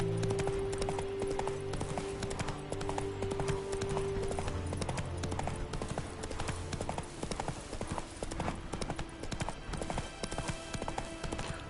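A galloping horse in The Witcher 3 video game, its hooves clip-clopping in a steady, continuous rhythm at close range under a bed of game ambience.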